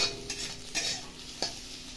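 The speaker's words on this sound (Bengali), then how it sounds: "দু থেকে 3 সেকেন্ড আমি এরকম একটু নেড়ে নেবো, যাতে পেঁপে লাল না হয়ে যায়।" Thinly sliced papaya stirs in a pan with spices for a chutney, giving a low frying sizzle and three quick scraping strokes of a spatula, close-up, without voices.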